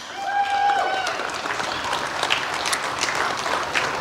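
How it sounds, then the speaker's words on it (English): Outdoor audience at the Long's Park Summer Music Series applauds in a steady wash of clapping and faint cheers, a sustained crowd noise with a brief whistle-like tone early on. "let's give them a round of applause"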